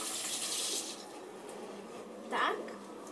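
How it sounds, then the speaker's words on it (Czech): Tap water runs as hands are washed at a sink before making an olive oil makeup remover, a steady close splashing hiss that eases, then swells briefly with a sharper splash near the end. "Si umyju ruku."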